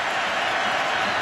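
Stadium crowd at a college football game, Florida at South Carolina, on a warm day: a steady, dense roar of many distant voices with some cheering, continuous and unbroken throughout.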